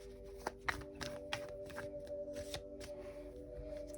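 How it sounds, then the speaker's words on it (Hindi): Tarot cards are shuffled by hand in soft riffling bursts, a handful of quick papery flicks and rustles close by and faint over a low steady hum, with no talk. "एक और शफल।"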